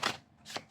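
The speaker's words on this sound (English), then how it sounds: "Do one more shuffle." A deck of oracle cards being shuffled close up, three quick riffling bursts in under a second with short pauses between, no voices.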